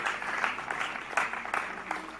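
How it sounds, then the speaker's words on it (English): Audience at the South Asia Learning Summit giving a round of applause, moderately sparse clapping with a few sharper bursts, somewhat distant and brief. "Please give them a round of applause again."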